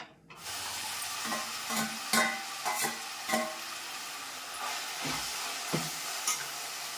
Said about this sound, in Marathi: त्या फोडणीचा आवाज येत आहे